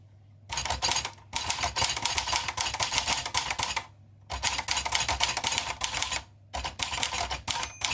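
Red 1969 Olivetti Valentine typewriter being typed on, close rapid bursts of key strikes in three runs separated by short pauses, crisp clacking with no voice over it.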